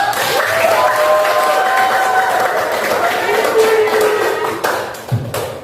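An audience applauds and cheers after a solo poem reading, a steady wash of clapping with crowd voices and a whistle-like tone through it, tapering near the end.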